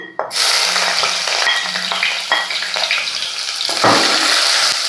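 Chopped ginger and garlic hit hot oil with a sudden loud sizzle, then a steady crackling fry with occasional stirring scrapes, close up.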